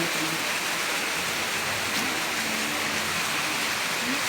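Steady rain falls in a village, a continuous even hiss of drops on surfaces, close and moderately loud, with no clear talking.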